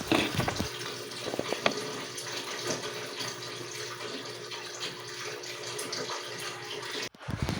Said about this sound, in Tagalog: Lalagay na din po natin ang gata para lumambot agad yung mga nauna nating ingredients.